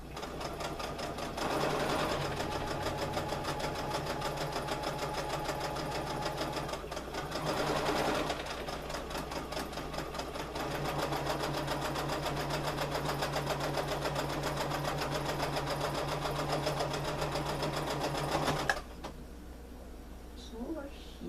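A sewing machine runs a straight stitch on a fabric trick-or-treat bag, humming continuously and close for about eighteen seconds with a couple of brief surges, then stopping; a voice is heard talking over it.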